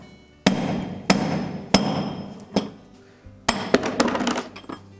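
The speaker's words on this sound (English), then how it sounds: "tap it with our hammer" Sharp metallic hammer taps on a punch against a washing machine bearing race ring out one by one, then a quicker cluster of clinking strikes, loud and close with no talking.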